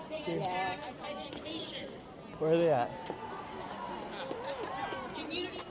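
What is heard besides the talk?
crowd of protesters chattering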